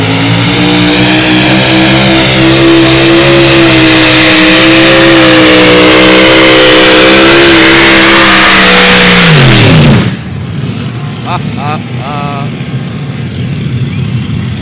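A tractor pulling engine of roughly 12,000 to 13,000 horsepower roars at full throttle at the Edewecht Euro Cup, a loud, sustained deep blare that cuts off abruptly after ten seconds, leaving crowd noise and faint chatter.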